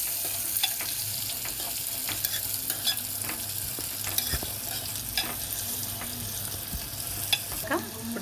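Lentils for pachani pappu being stirred through hot oil in a pan, a steady close sizzle broken by repeated scraping and clinking strokes of the spoon, with no voices.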